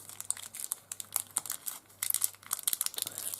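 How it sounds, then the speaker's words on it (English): A plastic bag from a bead subscription box is pulled and worked open, giving close, continuous crinkling and crackling in irregular bursts with brief pauses, no voices. "I can't even open the bag."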